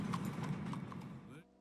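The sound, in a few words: horse hooves approaching after whistle, Red Dead Redemption 2 video game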